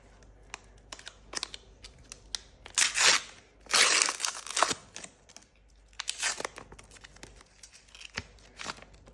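A foil trading card pack wrapper for 2025 AFL footy cards is torn open close by, with crinkling rustles and two louder ripping tears among scattered crackles and taps.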